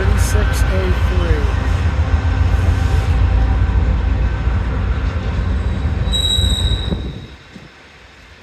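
Norfolk Southern freight transfer train running between rail yards, loud steel wheel squeal and rumbling cars passing close, a high screech rising near the end before the noise drops away.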